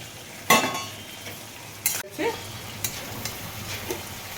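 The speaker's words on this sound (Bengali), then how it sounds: "আমি ভাজা আলুগুলো দিয়ে দিলাম" Fried potatoes going into a sizzling mutton curry, with a sharp clatter as they drop in, then steady frying hiss and occasional spoon stirring and light utensil clinks.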